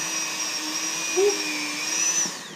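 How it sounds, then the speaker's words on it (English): Dremel rotary tool polishing silver: a steady high-pitched motor whine, close and fairly loud, with slight changes in pitch as the polishing head meets the metal. "we got our Dremel. We're doing it legit this time. So, you know, just get some polish on there."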